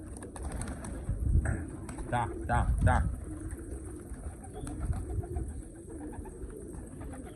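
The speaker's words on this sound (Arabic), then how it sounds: "كل ما تجي الحمام معاها طيور يصفروا لها" Domestic pigeons coo in a few soft, low bursts close by, while a man calls out to the birds over them and outdoor background noise continues.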